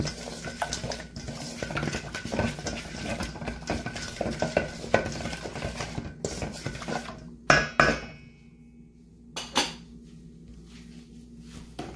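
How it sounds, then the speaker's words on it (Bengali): Marinade for teriyaki-style pork chops, with oil and sauces, is mixed in a bowl with steady clinking and scraping of a utensil, close by, ending with a few louder knocks and a quieter pause, no voices. "এখন সব উপকরণগুলোকে আমি সুন্দরভাবে মিক্স করে নিচ্ছি।"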